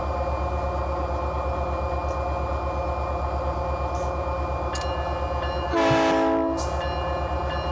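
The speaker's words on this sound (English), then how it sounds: "That's probably more of like an SP style horn in a UP." A Southern Pacific-style locomotive horn on a Union Pacific engine in the Run 8 Train Simulator at Cajon Pass, sounding one short loud blast over a steady rumbling diesel drone and rail noise.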